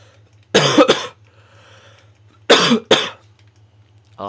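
A man coughs in two separate bursts, each a pair of harsh, close coughs, with a steady low hum under the quiet gaps.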